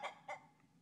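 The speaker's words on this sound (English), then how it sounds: "Can you chickens be less noisy, please?" Chickens give two short, close clucks in quick succession, then a fainter third, with no talk.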